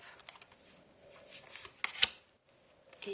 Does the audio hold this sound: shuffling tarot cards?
yes